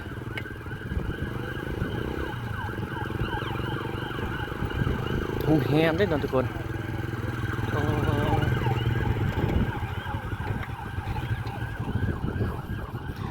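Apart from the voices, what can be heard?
rescue vehicle siren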